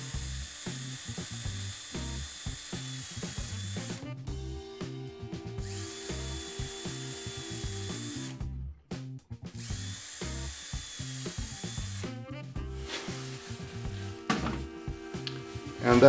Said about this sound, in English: So now I'll drill these.